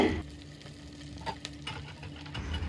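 Garlic, onion and curry leaves fry in hot oil for a Kerala-style duck curry. A soft, continuous sizzle runs under intermittent scraping stir strokes, with a brief louder crackle at the start as the leaves hit the pan.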